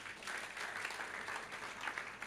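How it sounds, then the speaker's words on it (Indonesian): A church congregation clapping for God during a sermon: a dense, steady wash of many hands applauding together, distant and fairly faint, holding evenly throughout. "Tepuk tangan untuk Tuhan."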